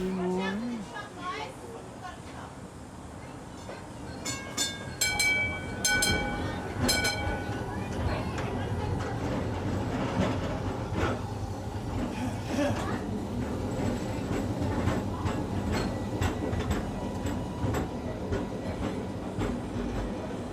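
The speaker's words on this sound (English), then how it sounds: "As an example of Sydney's first revived system trams comes towards us, a barrier tram" A Sydney barrier tram from the revived system of the late 1980s rumbles closer along the rails, a steady mix of wheel noise and clatter. Several high metallic rings and squeals cut in partway through, and faint voices sound underneath.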